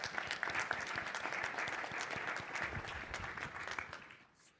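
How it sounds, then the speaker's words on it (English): An audience applauds at a Microsoft Teams technology conference session, a dense, steady wash of clapping that holds for several seconds and then tapers off at the end. "So give him a round of applause."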